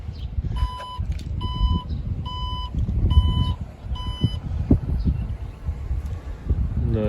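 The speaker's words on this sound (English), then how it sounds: "press and it'll close the trunk" Alfa Romeo Stelvio 2022 power tailgate closing outdoors, marked by a run of about five short, evenly spaced high electronic beeps over a low motor hum and wind noise, with a soft thud near the end.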